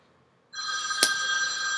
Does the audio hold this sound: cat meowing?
no